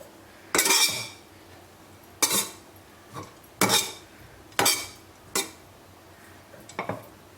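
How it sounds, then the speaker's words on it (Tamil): A spoon scrapes and clinks against a pan while mixing samai sevai with coriander, five or six sharp metallic strokes spaced about a second apart, close and fairly loud with quiet between them. "அப்புறம் கொஞ்சம் கொத்தமல்லி போட்டு நல்லா மிக்ஸ் பண்ணி விட்டுறணும்."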